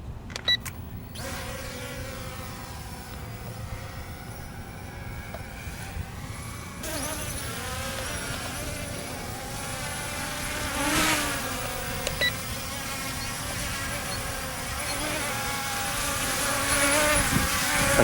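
A DEERC D20S micro drone buzzes in flight outdoors in wind, a steady high whine that shifts in pitch and swells as it moves nearer and farther.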